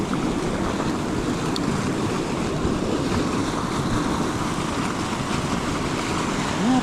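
Water rushes steadily along a partly frozen Colorado trout river in snow, a constant broadband wash with faint wind and no talk.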